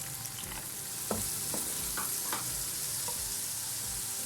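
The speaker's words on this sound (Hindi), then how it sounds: "इसके अंदर हम ये कटी हुई शिमला मिर्च ऐड कर देंगे। ये कटी हुई गाजरें इसमें चली जाएंगी" Chopped capsicum and carrots hit a pan of lightly browned garlic and are stir-fried, giving a steady close sizzle with soft scraping and stirring knocks throughout.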